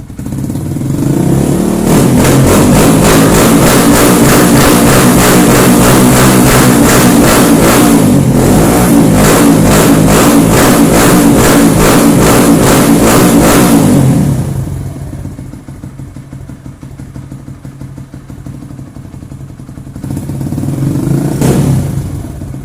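Loud close Kawasaki KLX 150 motorcycle engine revving hard with a rapid pulsing beat for most of the stretch, then dropping to a steadier idle with a brief blip near the end.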